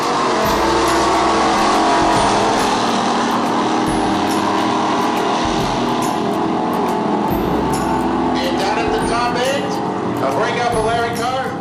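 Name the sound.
1971 Plymouth Duster pro street car drag race run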